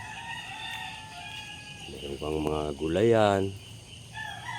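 A rooster crows loudly nearby on a small farm while someone speaks over a steady outdoor hum.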